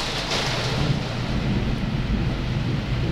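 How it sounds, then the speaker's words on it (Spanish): Heavy rain pours steadily with a deep rumble of thunder rolling underneath, a dense continuous wash of sound close to the microphone. "Wow, la lluvia está intensa."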